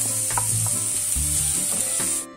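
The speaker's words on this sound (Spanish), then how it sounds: "en una sartén antiadherente agregamos un chorrito de aceite de oliva y vamos a sofreír lo que son los ajos, la cebolla y el tomate" Garlic, onion and tomato sauté in olive oil in a non-stick pan, giving a loud, continuous sizzle broken by scraping stirs. The frying sound is close and steady, then cuts off abruptly at the end, with no voices.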